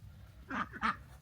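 A lone duck wandering on a homestead gives two short, nasal quacks close by, one after another, against a quiet outdoor background.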